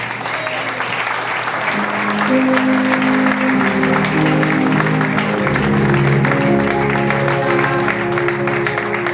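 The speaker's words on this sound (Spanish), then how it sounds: "Aplauda a su rey." A church congregation applauds loudly and steadily at a worship service, dense clapping carrying on throughout with organ or keyboard chords sustained beneath it.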